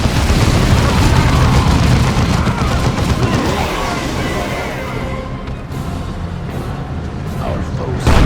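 Heavy battlefield din in the strategy game Dawn of War II, with booming cannon fire and explosions rumbling loudly at first, then fading into scattered shots and distant blasts.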